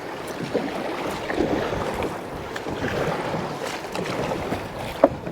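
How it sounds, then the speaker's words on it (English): A kayak out on open water in waves, with sloshing and slapping water and gusty wind buffeting close by, a sharp knock near the end, no voices. "really am nervous about kayaking out in waves like this"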